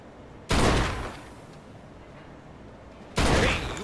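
Two loud, sharp gunshots fired at car tires in Mafia 2, each a sudden blast with a short decaying echo, spaced about two and a half seconds apart, no talk.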